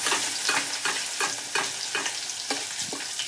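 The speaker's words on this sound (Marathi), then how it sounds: "पाच सहा पळी परत तेल घालून घेणार आहे बघा आपण लसूण टाकतोय जाडसर कुटलेला पुन्हा हलून घ्यायचा" Coarsely crushed garlic sizzles loudly in a pan of hot oil, with a steady crackle broken by regular scraping strokes of a spoon stirring it, no voices present.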